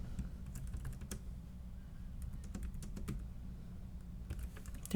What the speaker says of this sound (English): Sometimes it's easier to just type.